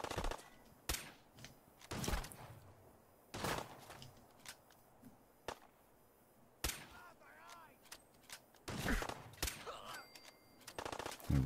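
Several sharp gunshots from the video game Fallout 4, fired in the ruins of Lexington, come in separate bursts with gaps between them, mixed with quieter in-game sounds and no speech.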